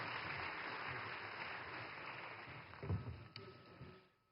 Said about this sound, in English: Please welcome with a loud round of applause to Shri Aditya Kutty ji.